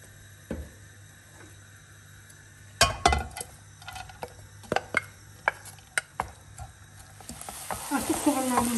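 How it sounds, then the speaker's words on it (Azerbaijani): Onions fry in a little oil in a pan. Sharp clinks and scrapes of stirring come first, then a loud, building sizzle rises toward the end. "Bugün fərqli olaraq mən soğanımı çiğ yox, yağda biraz qızardıb sonra qozuna qatacağım"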